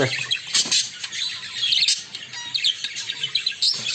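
Several birds squawk and chirp close by in a lively, continuous burst of overlapping calls with no talking.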